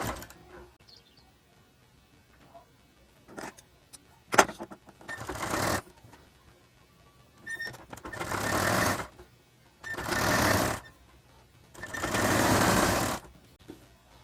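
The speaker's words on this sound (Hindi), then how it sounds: "मैं सिलाई लगा लेता हूँ कॉलर वाली।" Sewing machine stitching the collar of a child's shirt: several separate runs of close mechanical whirring, short at first, then three longer bursts separated by quiet pauses, with faint handling noises between.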